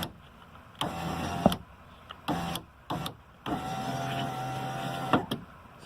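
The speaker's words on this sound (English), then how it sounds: "See our motor go up and down." Power window motor on a 2006 Nissan Frontier driving the glass up and down, several short whirring runs separated by brief pauses, with one longer steady run near the end, close and clear.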